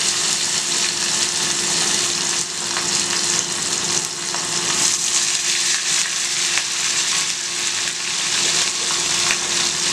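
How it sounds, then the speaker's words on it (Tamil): Green chilli fish pieces fry in hot oil, giving a loud, steady, crackling sizzle that carries on without a break, with no voices. "எடுத்துட்டு மற்ற பீசஸும் வந்து நம்ம ஃப்ரை பண்ணிக்கலாம்."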